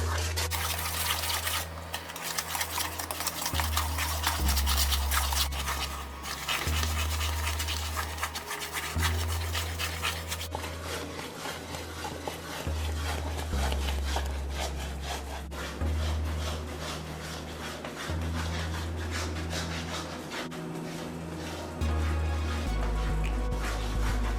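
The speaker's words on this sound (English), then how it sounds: "And you have to continue stirring this not to burn the fudge." Condensed milk fudge is stirred in a pot, a steady scraping and rubbing of the spoon against the pot bottom repeating in long strokes over a low hum, with no talking.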